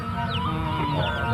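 A chicken clucks close by in a short burst of throaty, broken calls over a background hum, heard during clay handicraft work.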